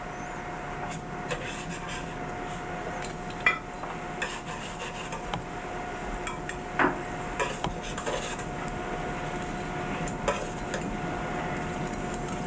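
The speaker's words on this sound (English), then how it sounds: "They come out very nicely out of the pan." Soft poppy seed cookies are lifted from a baking pan, making light scrapes and small metallic clinks and taps at irregular intervals over a steady low hum, close by and fairly quiet.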